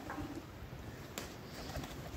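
Pigeons coo softly in a coop on a morning when bath water mixed with potash is set out, low throaty calls under faint background noise, with a brief flutter or knock near the middle.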